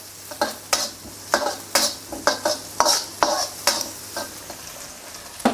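Chili and garlic paste stir-frying in hot oil for Thai basil pork, with a spatula scraping the pan in a steady rhythm of sharp strokes over a low sizzle, close and clear.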